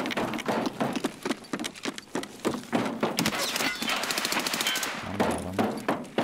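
AK rifle fire in the shooter game Escape from Tarkov Arena comes as rapid strings of sharp shots in close succession, with a brief low thudding near the end.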